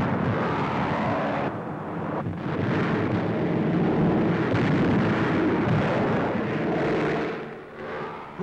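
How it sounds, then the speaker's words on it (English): Loud, continuous roar of blasts and rumbling, like practice bombs exploding close by, with aircraft noise blended into the din. "Air Cadets dive for cover as their own planes release harmless chalk bombs."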